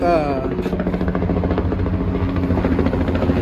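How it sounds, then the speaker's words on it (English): A loud helicopter thumps and roars continuously overhead, its rotor chop pulsing steadily throughout. "Got a loud helicopter."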